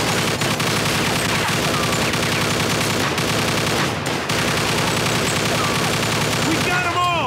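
Heavy gunfire in the Mafia II video game: dense, continuous bursts of automatic fire hammer on without pause, loud and close, with brief sharp shots layered over the steady machine-gun rattle.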